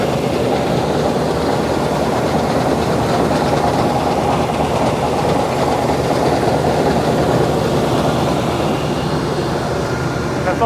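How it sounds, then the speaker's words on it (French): A CLAAS 410 combine harvester arriving in a grain field gives a loud, continuous mechanical rumble and clatter that stays steady and close throughout. "Là, mon cousin Mathieu arrive avec la 410"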